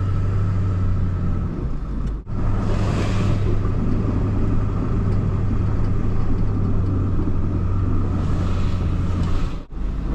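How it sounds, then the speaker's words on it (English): A snow plow truck's engine drones loud and steady in close rumble while plowing, with two sudden dropouts where the engine hiccups and hesitates for a split second before catching again. "as I'm plowing, you can hear, it's like a little hiccup. It's like hesitating for just a second"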